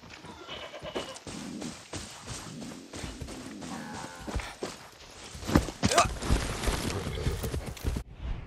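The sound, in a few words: horse hooves clip-clopping in Far Cry 6 video game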